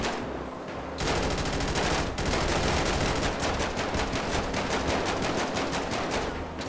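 Sustained automatic gunfire in GTA 5 roleplay rattles loud and close, a rapid unbroken stream of shots after a brief lull at the start, with another short gap midway.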